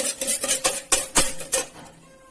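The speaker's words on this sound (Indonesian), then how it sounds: "Langkah pertama, kocok telurnya sampai tercampur rata ya." Eggs are whisked in a bowl, a quick run of rhythmic clinking taps from the whisk against the side, close and crisp, slowing into a few sharper knocks before fading.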